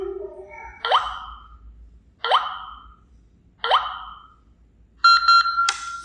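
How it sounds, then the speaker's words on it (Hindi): An Elara Echo Lite smart lock chimes while being factory reset: a short electronic jingle, then three evenly spaced rising beep-swoops, and a final bright melodic tone, all loud and close with quiet gaps between. "फाइव बीप के बाद आपका लॉक फॉर्मेट हो जाएगा।"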